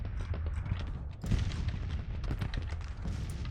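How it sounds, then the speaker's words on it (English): Civil War artillery cannons in Grand Tactician, a dense rumbling barrage of booms and crackling fire, continuous and moderately loud with a heavier blast near the middle. "our cannons are obliterating down the enemy"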